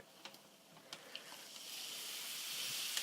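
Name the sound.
filling sizzling in hot baking pan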